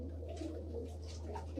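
Indoors in a pigeon loft, a pigeon gives soft, repeated low coos over a steady electrical hum, faint and close.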